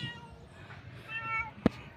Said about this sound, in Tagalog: yung pusa mga idol.